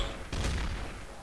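A burst of gunfire in the video game Trouble in Terrorist Town: a close, heavy shot or quick volley hits suddenly, then rumbles and fades over about a second.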